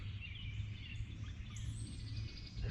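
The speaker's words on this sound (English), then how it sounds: "the sounds of the birds" Birds chirping and singing in a swampy cemetery in Tallmadge, Ohio, a busy chorus of thin calls over a steady low rumble, moderately distant and continuous.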